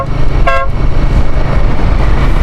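A vehicle horn toots once, short and fairly close, over steady road and engine rumble during a road trip through Batanes.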